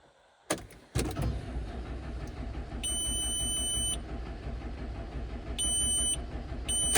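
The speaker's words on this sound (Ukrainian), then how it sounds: "Стартер круте, а апарат не запускається." A diesel John Deere tractor engine running on summer diesel fuel cranks on its starter without catching, a steady close whirring grind after a sharp click and thump, with faint high electronic beeps repeating over it.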